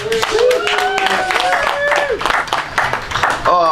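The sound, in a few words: audience applause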